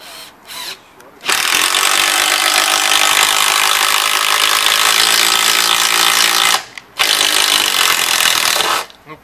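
A Makita brushed cordless screwdriver drives a long screw into wood in one sustained, loud whirring grind of about five seconds, followed by a shorter burst after a brief pause, with a voice speaking just before.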